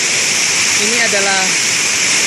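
Steady, loud rush of the third tier of a waterfall on Bukit Mangkol, Bangka, after a major flood, with a brief voice rising faintly over the constant roar.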